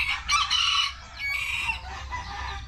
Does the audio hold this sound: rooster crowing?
yes